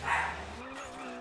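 A pet dog gives a short yip or bark near the start, fairly faint, behind engine noise from a rally race in Colin McRae: Dirt before settling to a steady drone.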